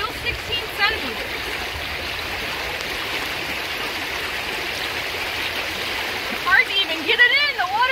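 Fast creek water rushes with a constant loud roar close by, while a person talks over it briefly toward the end.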